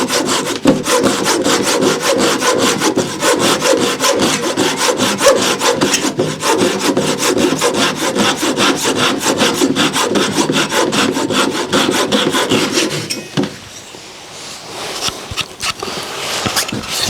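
A small trim saw cuts through wood with fast, rhythmic rasping strokes, loud and close, stopping briefly near the end before a few more strokes.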